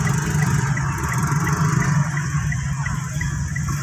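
Traffic jam as crowds leave a mosque after a Prophet's birthday (Maulid) gathering in Indonesia, with a steady wash of car engines idling and creeping forward, continuous and moderately loud, no clear talk.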